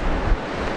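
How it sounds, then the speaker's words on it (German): Sea waves washing onto a beach with rocks on the coast of Chile, a brief, steady broadband wash of surf with wind noise, close and fairly loud, no voices. "dieses Meer"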